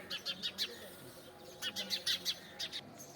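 A black bird chirps faintly outdoors in short bright bursts, with a small cluster of tweets, a pause, then a quicker run of calls over a soft background hum.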